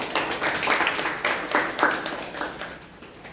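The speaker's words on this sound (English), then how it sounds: "He deserves a big round of applause." Club meeting audience giving a round of applause, a moderate patter of clapping hands that swells and ebbs in loose bursts, fairly close and without talk over it.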